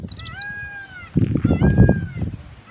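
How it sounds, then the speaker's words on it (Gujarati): Peacocks call in hill country where cows rest at midday, with a few rising, meow-like wails heard near and clear at first, then drowned by a burst of rustling, thumping noise. "મોરલા કિલોર કરી રહ્યા છે"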